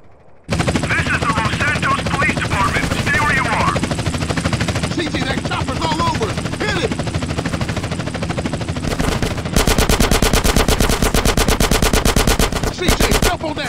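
Helicopter rotor and rapid automatic gunfire in the video game GTA San Andreas, dense continuous shooting over a roaring engine, with voices shouting under the noise.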